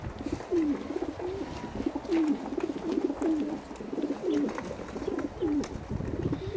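A racing pigeon in a champion fancier's loft gives a steady run of soft, rolling coos, repeated about every half second over a constant background of other birds and low noise.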